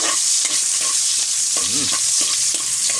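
Garlic and onion sizzle loudly in a pan for a pork dish, a dense close hiss with rhythmic scraping from a spatula stirring.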